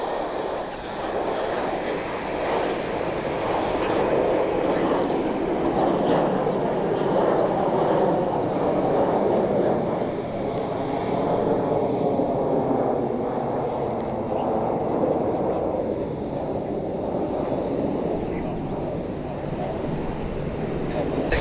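Dassault Falcon business jet taxiing out at Columbus Glenn Airport, a continuous broad engine roar and whine that swells and eases over about twenty seconds, heard from a distance.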